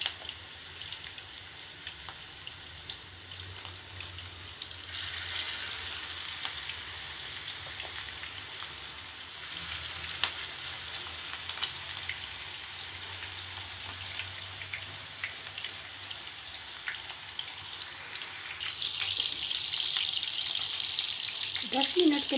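Chapli kebabs frying in a pan over medium heat, a steady soft sizzle and crackle that holds for the whole stretch and swells a little toward the end.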